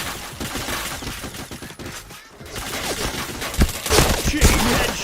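Video game shooter gunfire rattles in rapid overlapping bursts, loud and close, with a brief lull midway before heavier volleys return.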